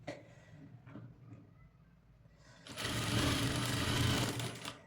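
A sewing machine stitches the neckline of a cutwork designer blouse, the motor whirring up loud and steady for a couple of seconds after some quiet handling noises.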